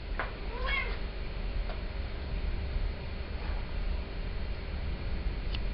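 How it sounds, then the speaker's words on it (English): A cat gives a single short meow near the start, faint against a constant background hiss and low hum, followed by a few light ticks. "The cat goes meow, meow, meow."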